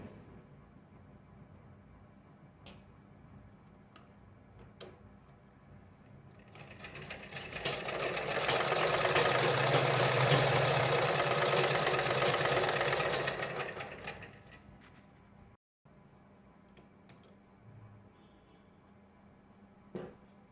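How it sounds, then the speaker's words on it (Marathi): Sewing machine running in one sustained burst of steady stitching, attaching a fabric strip to a cloth bag, rising from a quiet room, whirring loudly for about seven seconds, then stopping. "ती अशा पद्धतीने ठेवायची आहे आणि पाव इंच शिलाई मार्जिन घेऊन टीप मारायची आहे"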